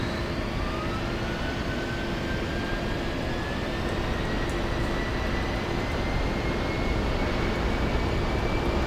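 A simulated A-10 jet engine spools up during a crossbleed start in a flight simulator game, a steady dense roar with a slowly rising whine throughout, no voices.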